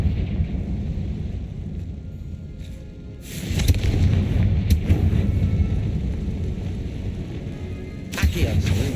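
Blasting explosions from the Confringo spell in a Harry Potter video game, a broad rumbling boom swelling midway and a sharp crack near the end, under game ambience while a person speaks briefly.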